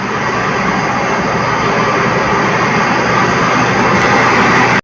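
A motorcycle engine runs close by without pause, a loud, steady drone and constant broadband roar that cuts off abruptly at the end.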